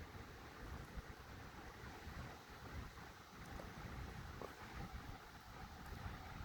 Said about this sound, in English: Now the wind's whipping up.